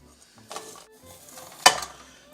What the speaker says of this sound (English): when you go to cut corn off the cob, there's a neat little trick I like to use